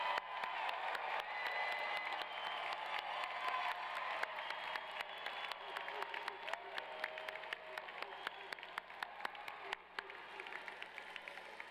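Applause fills a commencement ceremony hall as the audience claps for the graduates' families, a dense, faint wash of many hands that thins toward sparse individual claps near the end.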